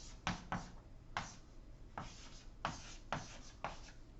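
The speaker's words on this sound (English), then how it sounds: "So let me start writing here." Handwriting during a lecture, with several separate pen or chalk strokes in an irregular rhythm, each a short scratchy burst, fairly faint against a quiet room hum.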